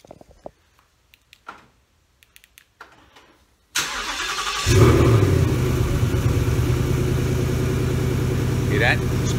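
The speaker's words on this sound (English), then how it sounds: "I'm going to get the remote start and start the car up for you" A 2018 Ford Mustang GT V8 is started by remote start: after a few quiet clicks and handling noises, the engine cranks and fires with a loud burst, then settles into a steady, rumbling idle close by.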